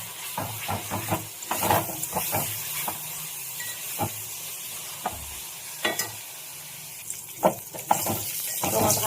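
Crushed garlic fries in a pan over high gas flame, a steady sizzle and hiss with repeated scraping strokes of stirring scattered through, nobody talking.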